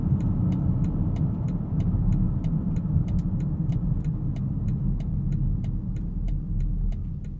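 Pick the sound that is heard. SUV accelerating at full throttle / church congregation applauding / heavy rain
SUV accelerating at full throttle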